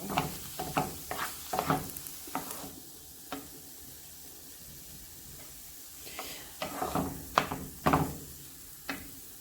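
Chopped tomatoes cooking in a pan for pasta with tuna: a quiet background sizzle broken by clusters of sharp clicks and scrapes from stirring, close by and faint.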